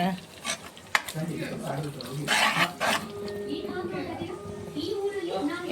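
Prawns go into a pan for biryani and fry with a busy sizzle and scraping stirs, punctuated by a few sharp clicks, while a person talks over the cooking.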